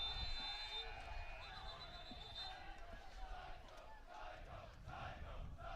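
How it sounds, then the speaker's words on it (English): A scoreboard buzzer sounds a high, steady electronic tone at the end of an overtime period in a girls' high school lacrosse game, lasting a couple of seconds before fading under ongoing crowd noise and cheering. "the buzzer sounding"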